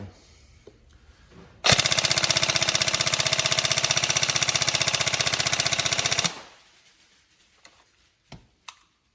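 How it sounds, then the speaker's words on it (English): Upgraded Tokyo Marui 417 DMR NGRS airsoft electric gun firing single shots in a fast, steady string of sharp mechanical cracks for about four and a half seconds, with a few isolated clicks afterward. "Bunch of shots through it, which is all working good."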